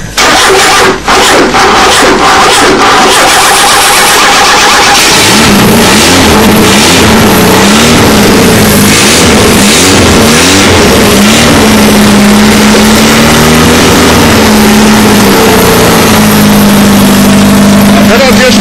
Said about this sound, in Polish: przygotowywał się teraz do rozrucha silnika i zaraz go uruchomimy.